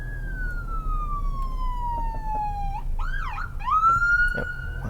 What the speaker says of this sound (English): I'm rolling up on a ambulance right now, so you're about to hear some sirens